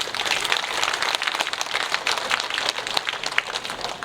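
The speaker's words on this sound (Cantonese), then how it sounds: "咁首先我希望大家俾啲掌聲我哋嘅同學" Steady applause from an audience at a graduation exhibition opening ceremony for a calligraphy diploma course, a dense continuous patter of clapping with no speech over it.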